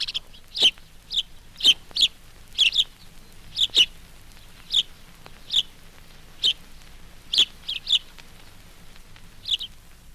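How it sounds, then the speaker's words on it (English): A house sparrow chirps loudly and repeatedly in a built-up garden setting, giving short sharp calls in irregular bursts, close by and clear over quiet background. "the loud chirp of the house sparrow is often a common sound"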